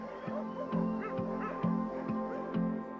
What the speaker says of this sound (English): Running with the dogs